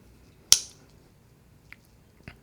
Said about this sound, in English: You can hear the snap in that.